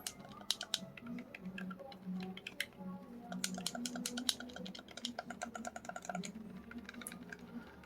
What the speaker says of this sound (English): The buttons feel clicky and tactile.